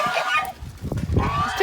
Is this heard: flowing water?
no